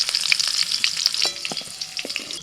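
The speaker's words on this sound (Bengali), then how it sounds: "দাও সামান্য একটু লবণ, হালকা করে ভেজে ক্যাপসিকামগুলো তুলে নিচ্ছি।" Capsicum pieces fry lightly in hot oil with a pinch of salt for a paneer dish, a close, bright sizzle broken by stirring scrapes and small pops, with no voices.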